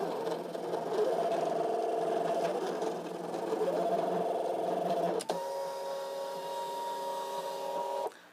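A Brother ScanNCut cutting machine runs steadily with a mechanical whir and tonal motor hum, pitch shifting partway through as the carriage changes motion, then stopping near the end.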